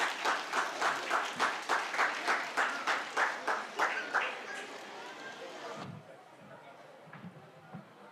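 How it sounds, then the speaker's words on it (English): Loud audience applause at a school annual day event, rhythmic clapping bursts filling the hall for about six seconds before fading into quieter room noise. "Let's give a huge round of applause for both the students."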